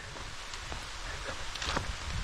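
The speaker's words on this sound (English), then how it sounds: "And it just started raining." Rain falling steadily outdoors on a trail about 72 miles into the Grindstone 100-mile ultramarathon, a soft continuous patter on leaves and ground, faint and even throughout with no voices.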